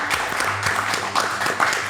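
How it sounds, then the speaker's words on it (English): A brief, dense round of audience applause at the close of a talk show episode, steady clapping over a low background hum. "One more round of applause for my brother, Regulo Caro."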